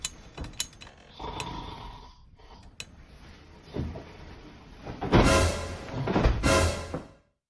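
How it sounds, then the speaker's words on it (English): A person snores in a bedroom: slow, rough, rattling breaths rising and falling, with a couple of loud, harsh snorts toward the end, close and alone. "It happens in the bedroom, and the issue is called snoring."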